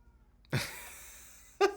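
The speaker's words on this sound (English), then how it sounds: "That was the cat." A cat gives two short meows close by in a quiet room, the first drawn out briefly and the second a sharp, quick call a second later.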